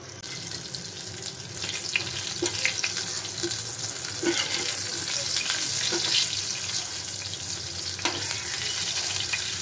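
Pointed gourd (potol) fries in a pan, giving a continuous bright sizzle with soft crackles and occasional stirring clicks, close and steady throughout.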